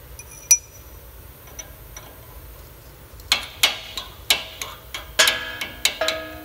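A trailer wheel hub spins freely on loosened bearings, giving a series of light metallic ticks and clinks that start sparse and grow into a quicker, irregular rhythm of clicks.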